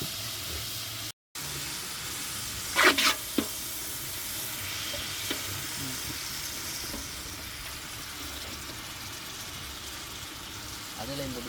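Curry leaves fried in hot oil in a pan, a loud continuous close sizzle and crackle with a few sharper pops, under a busy outdoor cooking feast with people talking nearby.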